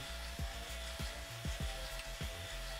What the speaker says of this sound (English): what we'll do is drill out those rivets